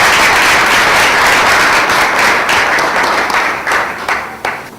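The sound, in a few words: audience applause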